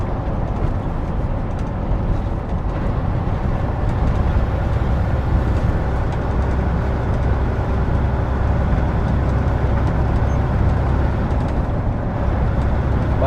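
A heavy truck engine drones steadily while the truck is driving, a loud and unbroken low rumble close to the listener. No voices can be heard over it.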